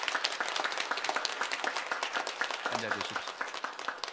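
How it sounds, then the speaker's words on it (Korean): A church congregation at a Korean covenant renewal service breaks into big, sustained applause, a dense continuous roar of many hands, with a voice briefly speaking over it near the end. "수고하시라고 우리 큰 박수로 한번 격려하시겠습니다."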